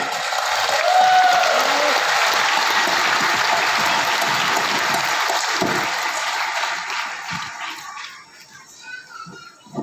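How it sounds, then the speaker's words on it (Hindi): Audience applause at a talk with IPCA Laboratories' owner, a loud, dense roar of clapping that holds steady and then thins and dies away over the last couple of seconds. "इसके लिए तालियां"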